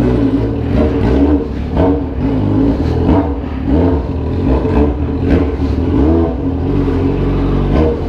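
Yamaha XJ motorcycle engine revving loud and close, a steady throaty drone with repeated rising throttle blips throughout and no talking.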